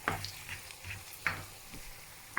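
Garlic fries quietly in a pan, giving a low continuous sizzle broken by a few soft scrapes and clicks of a utensil moving the pieces around.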